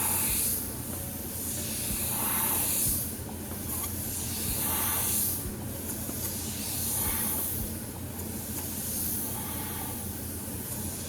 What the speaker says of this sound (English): I just got done spraying with this Gaahleri-Mobius SP